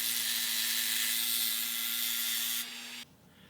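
A Dremel rotary tool cuts a small axle tube in half for a 1:64-scale model bus, giving a steady high-pitched whine with a low hum beneath, fairly faint, that drops in pitch and then cuts off near the end.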